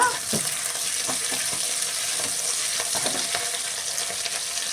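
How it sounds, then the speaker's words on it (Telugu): Fenugreek leaves (methi) fry in a pan with a steady, close crackling sizzle, broken up by occasional scraping stirs, and no talking. "ఇది బాయిల్ చేద్దాం, ఫ్రై చేద్దాం మెంతికూర"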